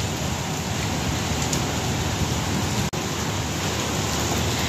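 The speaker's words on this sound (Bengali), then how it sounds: "বৃষ্টি কিন্তু হচ্ছে কন্টিনিউ।" Steady rain falls continuously with wind in the background, a dense even hiss with no talking that holds at the same level throughout.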